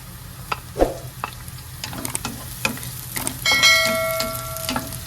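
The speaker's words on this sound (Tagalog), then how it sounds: "Gigisa na natin yung bawang." Garlic sautés in a pan with a close sizzle, punctuated by stirring scrapes and clinks, and a ringing metallic tone from the utensil striking the pan partway through.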